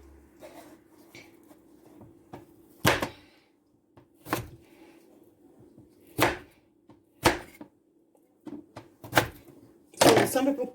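A knife chops through yam and plantain on a cutting board, giving a series of sharp, separate thunks about a second apart against a quiet hum, with a faint voice in the background.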